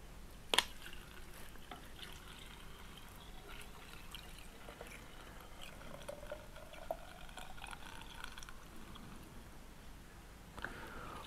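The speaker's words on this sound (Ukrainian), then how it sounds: "беремо спеціальну лійку, уже з ситом, і наливаємо. Бензин у мене вже розведений" Pre-mixed petrol poured through a funnel fitted with a strainer, a faint, steady liquid trickle with a few soft drips and one sharp clink near the start, no voices.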